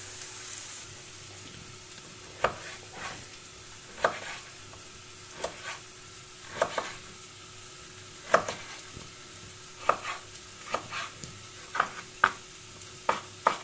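Onions fry in a pan, a steady low sizzle with repeated sharp scraping clicks of a utensil stirring at irregular intervals, fairly close and unaccompanied by talk.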